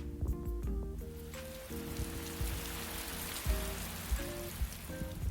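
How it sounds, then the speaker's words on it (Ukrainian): Steady rain patters and hisses on a surface, an even wash of drops with a few louder taps. "Це звук дощика."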